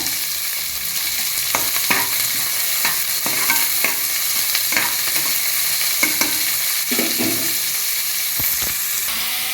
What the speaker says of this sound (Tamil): வெங்காயம் கருவேப்பிலை எல்லாத்தையும் போட்டு வதக்கிக்கோங்க நல்லா வதக்குங்க